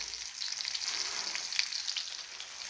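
A little water hitting a hot pan of stuffed chilies, a short steady hissing sizzle heard close and fairly quiet, with faint crackles and no talking.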